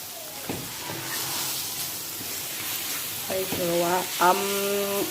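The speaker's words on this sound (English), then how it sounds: "garlics, and we are putting the green spices. I'm going to just fry it for a while." Garlic, onion and a generous amount of green spices sizzling and frying in a pan, a steady close hiss with occasional stirring scrapes and clinks and brief tonal squeaks toward the end.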